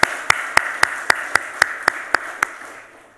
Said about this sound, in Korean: 우리 박수로 환영하기를 바랍니다